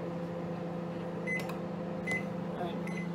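A microwave oven hums steadily while poaching eggs, its even drone carrying throughout with a few faint short tonal blips and soft pops layered over the running motor.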